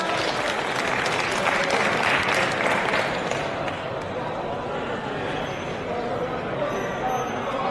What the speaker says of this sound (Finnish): Aplodit, kyllä.